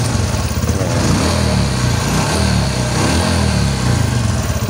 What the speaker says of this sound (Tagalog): So normal na normal yung andar na ng makina.